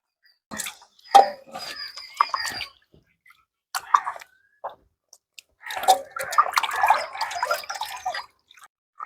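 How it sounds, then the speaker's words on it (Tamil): Small raw mangoes being washed in water for pickle-making, with intermittent splashing, dripping and squishing bursts separated by short silences, close and fairly loud with a longer sloshing stretch near the end. "தண்ணியில போட்டுக்கலாம், தண்ணியில போட்டு அடிச்சுக்கலாம்."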